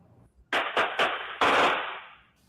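Rapid barrage of gunshots at a park at night, recorded on surveillance video: several sharp cracks in quick succession followed by a longer burst of overlapping shots, loud and close, with no talk.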